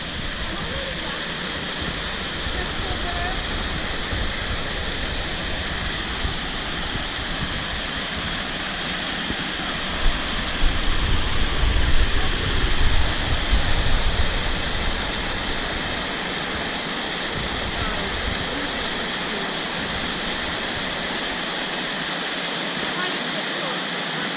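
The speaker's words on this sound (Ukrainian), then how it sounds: "Це ми якраз над водоспадом." A steady, loud rush of a waterfall near Molochnyi Kamin cave, Velyka Uhol'ka, Zakarpattia, heard from above, fills the whole clip, swelling briefly in the middle, with no other sounds standing out.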